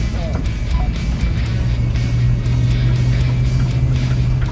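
A K5 Blazer 4x4 truck drives on a gravel road, a dense continuous engine rumble and tire crunch from inside, with a droning tone rising midway; a voice talks over it.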